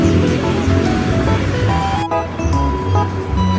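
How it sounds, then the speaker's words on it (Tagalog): A clear, fish-filled stream flows in the countryside, giving a steady, loud broadband rush of water that runs unbroken through the whole stretch. "Malinis yung batis dito."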